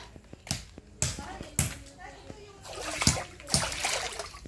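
Water splashes and gushes in several separate bursts from a newly built hand pump well, with sharp knocking sounds in between and a voice talking nearby.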